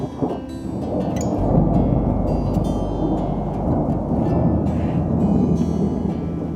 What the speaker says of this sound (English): I really hope you can hear all that thunder.